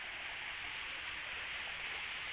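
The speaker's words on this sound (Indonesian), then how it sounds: "Air terjun tersembunyi." A hidden waterfall in the hills pours steadily, a constant, even rushing hiss of falling water heard at a distance, soft and unbroken with no voices.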